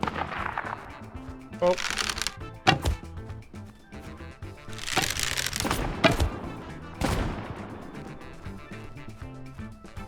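Gunfire in a survival video game where players are ducks, in PvP combat: rapid sharp cracking bursts over game music and sound effects, with someone talking over it.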